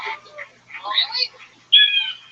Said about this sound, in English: You hear the sound of that random bird